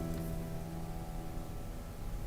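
A simple piano line plays alone, with sustained notes overlapping softly at a steady, moderate level.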